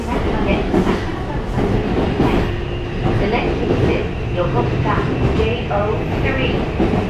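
Onboard a JR Yokosuka Line E235-1000 commuter train with Mitsubishi full-SiC VVVF drive, set F-04, running between Kurihama and Zushi: steady loud rolling rumble with faint wheel clatter and motor whine throughout.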